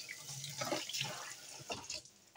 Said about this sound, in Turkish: Şimdi suya tutayım da.